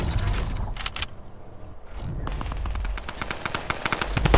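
Rapid automatic gunfire from the video game Fortnite rattles in dense bursts, loud and close, with a brief lull midway before the firing resumes even more heavily.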